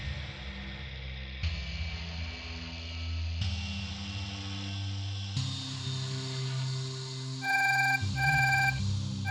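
A telephone rings in a repeating electronic pattern whose pitch steps upward several times, finishing with a run of short, bright beeping bursts, loud and with no talk over it.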